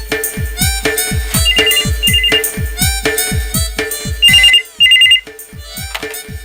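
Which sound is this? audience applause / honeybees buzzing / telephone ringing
telephone ringing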